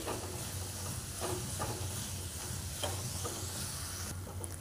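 Jaggery and coconut modak filling cooks down in a pan, giving a continuous soft sizzle and steamy hiss with periodic scraping stirs, close and steady without talk.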